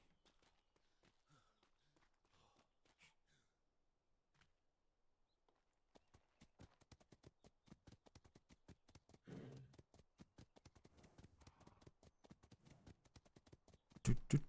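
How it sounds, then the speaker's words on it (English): A horse in the role-play video game Atlas RP clip-clops along in a steady, quickening run of hoofbeats that grows louder toward the end, with a brief breathy snort or whinny midway, no speech. "Oh, horsey."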